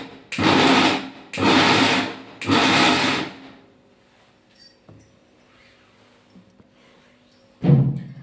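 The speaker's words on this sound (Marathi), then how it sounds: "तर छान असं मिक्सरमध्ये लावून घेऊया." A mixer grinder grinding spice masala with a little water runs in three loud, whirring bursts of about a second each with short pauses between, followed by quiet clatter and one last brief burst.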